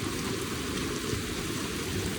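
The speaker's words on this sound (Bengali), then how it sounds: "এদিকে বৃষ্টি আরও জোরে নামছে, আরও জোরে আসতেছে বৃষ্টি" Heavy rain pours onto a flooded street in Dhaka, a dense, continuous hiss with no let-up and no voices over it.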